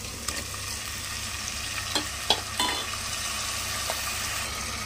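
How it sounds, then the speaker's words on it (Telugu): Boiled mutton bones stirred into a pan of fried onions and green chillies, giving a steady moderate sizzle with a few soft knocks and scrapes of a spoon. "ఇందులో మనము ఉడకపెట్టి పెట్టుకున్న మటన్ బోన్స్ని అయితే యాడ్ చేసుకుందాం."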